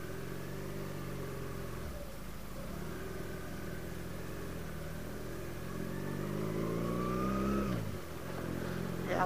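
A car engine hums steadily on a drive through rural Trenggalek toward Desa Melis, with a vehicle ahead hauling a heavy load of freshly sawn wood, revving up and then dropping back near the end, under faint talk.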